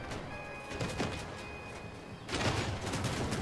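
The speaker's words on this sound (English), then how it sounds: "Oh my god, of course there's someone shooting at me!" Gunfire in the vehicle-combat game Crossout, a fusillade of shots in two bursts, moderately loud, with a brief lull between them and no talk over it.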